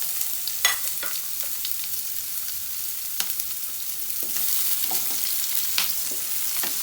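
Onions sautéing in a pan for soya and potato masala gravy, a continuous bright sizzle and crackle with occasional stirring scrapes, close and steady throughout.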